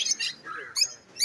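Exotic pet birds, including a pair of green rosellas, chirp at an outdoor bird market in Dakshineswar. Three bright bursts of high tweets come close and fairly loud, separated by brief quieter calls.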